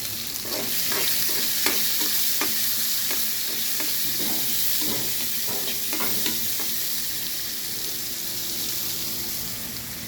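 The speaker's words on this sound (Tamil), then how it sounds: "கடுகு பொரிஞ்சிட்டு கருவேப்பிலை வெங்காயம் சேர்த்துருக்காங்க. நல்லா வதக்குங்க." Onions and curry leaves sauté in hot oil with mustard seeds, giving a continuous close sizzle with a rhythm of repeated spatula scrapes and taps against the pan, no voices.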